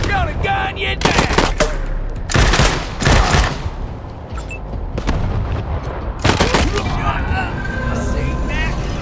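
Bursts of automatic gunfire and heavy shots in the video game Wasteland 3, loud rapid volleys separated by brief lulls, with game voices talking between the bursts.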